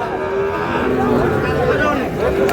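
A bull at a Dinajpur cattle market gives a long, loud, close moo with wavering pitch, over a faint backdrop of market voices.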